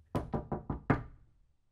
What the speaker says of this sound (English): A pleasant but firm voice called from the top of the stairs, punctuated by a knock on the door.